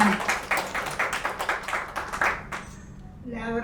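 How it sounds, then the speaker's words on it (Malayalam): A film crew at a movie audio launch event claps, a sustained patter of many hands for about two and a half seconds before it fades and a voice begins. "I won't all of U to give the applause"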